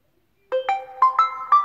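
A OnePlus 8 Pro's default ringtone starts after a short silence, a bright rising sequence of clean synthetic tones repeating in a quick, melodic pattern.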